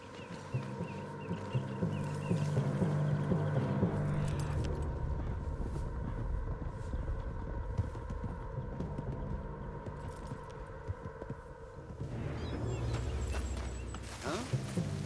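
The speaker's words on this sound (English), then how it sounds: "What's wrong with this horse?" Horse hooves clip-clop in Red Dead Redemption 2, a steady gait running under layered game ambience and low rumbling tones, with a brief dip in loudness near the end.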